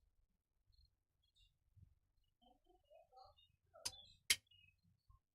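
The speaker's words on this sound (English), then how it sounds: "That's that clicking sound you're hearing." Sharp clicking from the rocker arm of a Cison V8 model engine kit, two distinct loud clicks close together near the end, with faint scattered mechanical ticks and low rumble before them.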